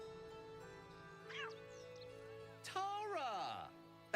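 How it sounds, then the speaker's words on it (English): Tara, a tressym cat in Baldur's Gate 3, gives a couple of clear close meows, one short and one longer sliding cry, over a sustained musical game background with speech nearby. "I found Gale's cat."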